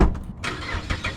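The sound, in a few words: Mazda 6 with straight pipe exhaust cold start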